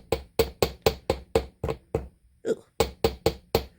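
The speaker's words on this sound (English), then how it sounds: "Looks like maybe I could do a little more flat edge on this side. With my hammer." A hammer flattens the very edge of a handmade metal link, striking about a dozen sharp, evenly paced blows close up, with a short pause midway. A grunt is heard in that pause.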